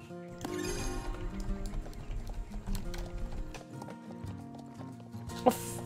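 Hoofbeats from a horse in the online riding game Star Stable Online clop along steadily under a bed of game music, with a brief louder knock near the end.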